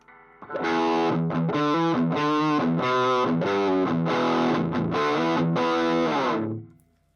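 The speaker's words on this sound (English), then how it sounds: "we are getting a Proco Rat distortion pedal coming out of my guitar amplifier" An electric guitar through a Proco Rat distortion pedal emulation plays a run of loud, gritty chords and notes, sustained and saturated, ending with a brief ringing decay.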